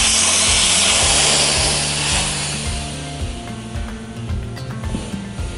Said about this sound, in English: the other side you want to let some air out